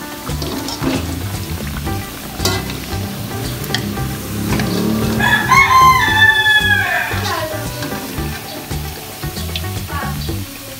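Fan-shaped banana fritters, a Pekanbaru street food, sizzle steadily in hot oil with stirring noises, while a voice chimes in briefly midway.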